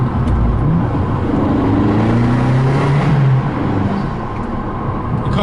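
An Abarth 595, a modified Abarth 500, with its engine revving up and holding a loud, raspy drone close by before easing off slightly near the end.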